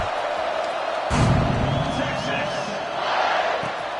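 A stadium crowd at an American football game murmurs and swells with a burst of cheering, while a commentator talks over the noise throughout.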